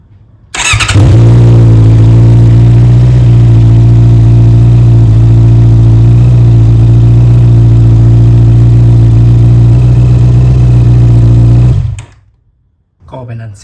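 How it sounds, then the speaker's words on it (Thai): A Honda CB650R motorcycle engine starts with a quick crank, then idles loudly and evenly close by for about ten seconds before cutting off abruptly. "สวิตช์สตาร์ทรถดูนะครับ สตาร์ทรถเครื่อง"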